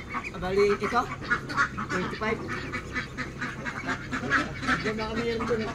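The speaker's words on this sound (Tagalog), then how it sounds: "Quack quack quack quack." Pekin ducks quack repeatedly at close range in a farm setting in Villasis, Pangasinan, with their calls running under near-continuous conversational speech.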